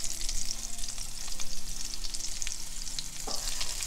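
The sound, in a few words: foie gras escalope pan-frying in a hot pan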